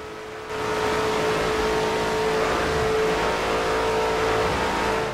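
A 1966 Ford GT40 Mk II's engine in Forza Horizon 2 kicks in after a half-second and holds a loud, steady high-rev roar at speed for the rest of the clip, with no talking.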